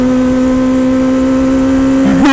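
A car engine holds a steady loud drone while the driver shifts gears, with the pitch dipping and then climbing sharply as it revs at the end.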